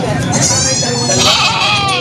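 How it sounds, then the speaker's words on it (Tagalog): Goats at a livestock market bleat loudly and close by, wavering cries overlapping with people talking nearby. "Tatlong kambing."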